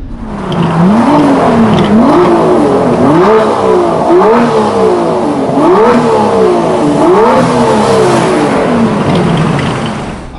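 An Aston Martin DB11 engine revs repeatedly, each blip rising and falling in a steady rhythm, with a loud, close, throaty burble and no talking.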